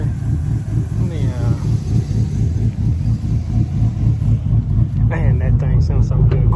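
A cammed truck engine revs and rumbles loudly and steadily up close, with a deep pulsing idle lope throughout; a voice talks over it near the end.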